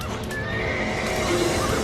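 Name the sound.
horses neighing in a smoke-filled stable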